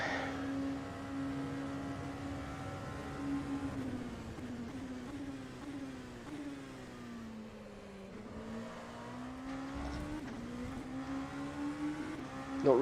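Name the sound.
race car engine in rFactor 2 video game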